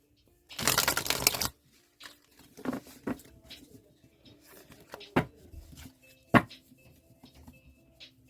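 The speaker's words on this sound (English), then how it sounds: "Let's actually shuffle these cards." A deck of tarot cards is shuffled, starting with a loud riffling burst and then a series of softer, scattered taps and flicks as the cards are handled.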